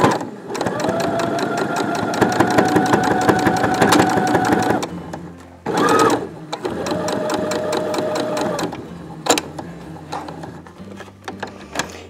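A sewing machine stitches around the edge of a fabric face mask in long, fast, close, loud runs. It pauses briefly, starts another burst, then slows into a few separate stitches.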